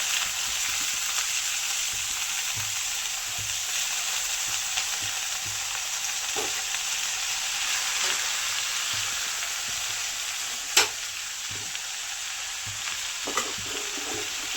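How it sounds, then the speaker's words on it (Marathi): Chopped safflower greens (karadi bhaji) fry in a hot pan, giving a constant close sizzle with scattered stirring scrapes and occasional sharp clicks from a spatula, steady throughout and free of talk. "आता जी आपण कापून ठेवलेली भाजी होती ती टाकणार आहोत"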